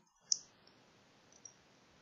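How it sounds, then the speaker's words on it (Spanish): A computer mouse button clicks once sharply, then a fainter click follows about a second later, isolated against a quiet background while a Windows executable icon is opened. "Hago doble clic"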